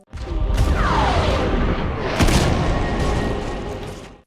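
A nuclear bomb explosion in a zombie film erupts as a sustained, roaring blast with a deep rumbling body and a sharp crack partway through, loud and continuous for several seconds.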